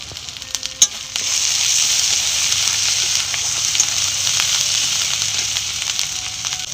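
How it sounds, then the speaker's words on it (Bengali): Snakehead fish curry sizzles steadily in a pan with ginger, turmeric and chili powder, with tomato and cumin paste being added; a constant close, bright frying hiss with a few small stirring knocks. "টমেটো কুচি দিয়ে দেবো জিরা বাটা দিয়ে দেবো ভালো করে কষিয়ে নেব"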